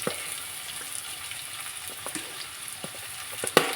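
Mango pieces frying with browned garlic in a pan for a quick sour mango pickle, giving a steady close sizzle with a few light stirring clicks and a sharper scrape near the end.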